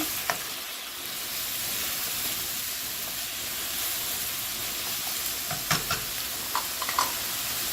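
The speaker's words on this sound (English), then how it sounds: "I'm going to add my mushrooms back into the hot pan" Mushrooms sizzle in a hot pan with a steady, close hiss of frying, later joined by a few sharp clicks and taps of a utensil against the pan, no talking.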